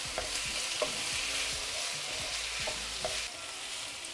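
Ingredients for a creamy chicken pasta fry in a pan with a steady, dense sizzle close by, punctuated by soft stirring scrapes and light taps of a utensil; no one talks.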